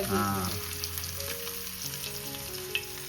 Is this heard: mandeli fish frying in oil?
yes